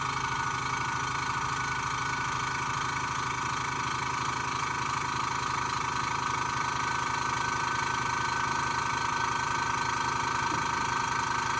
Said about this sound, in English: So it gets louder as the piston has to work a bit harder to fill up the tank.